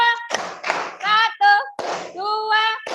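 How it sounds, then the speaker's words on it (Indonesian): A classroom group claps in short rhythmic counted bursts, close by, alternating with brief chanted voices between the claps. "Tepuk tangan untuk kelompok 3."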